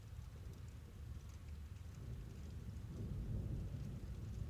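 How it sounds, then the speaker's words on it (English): Steady rain on a rainy night with a low, rolling thunder rumble beneath it, constant and soft, swelling slightly toward the end, with no voices. "with the sound of the rain"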